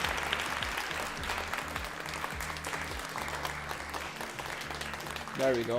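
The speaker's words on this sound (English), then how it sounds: "Because I was just like clapping." Clapping from a person during a live LEGO news stream, close and steady across the clip, with music or background sound beneath and a brief spoken phrase near the end.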